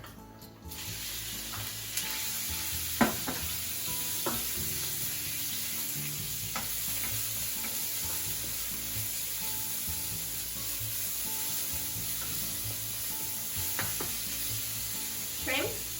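Pork stir-frying in sesame oil in a wok, a continuous moderate sizzle with a few sharp clinks and scrapes of stirring, no voices.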